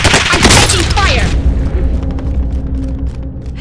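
Booming blast and gunfire in a Call of Duty Warzone match, a loud, dense burst of explosive noise at the start that fades into rumbling echoes, with a voice talking over it.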